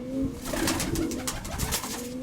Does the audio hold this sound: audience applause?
no